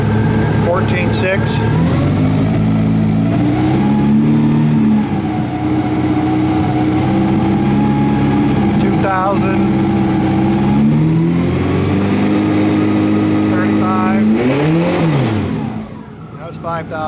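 A WAR Corsair replica aircraft engine runs loud and steady at idle, then rises through several sharp revving sweeps before dropping away near the end, with someone talking over it throughout.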